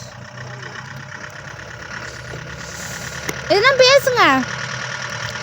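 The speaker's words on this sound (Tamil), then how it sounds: "வண்டி வருங்க, வண்டி போடுங்க." A vehicle engine runs steadily in the snow at Gulmarg, a constant mid-level rumble under people talking, with one voice rising in a drawn-out call near the end.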